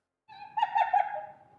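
A hyena sound effect: a short, tonal, whooping cry with a bright harmonic quality, rising in two or three pulses and then trailing away, heard alone.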